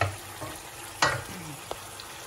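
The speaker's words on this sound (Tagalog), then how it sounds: "At mga prito. Ayan. Anong mga prito? Prito lang. Mga bistek." Bistek beef steak frying in a pan with a steady low sizzle, broken by a sharp stirring scrape near the middle and a smaller clink just after.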